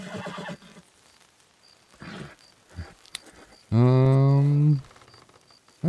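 A loud horse whinny from Red Dead Redemption 2 rings out midway, preceded by scattered quieter clicks and thumps, with brief voices near the start.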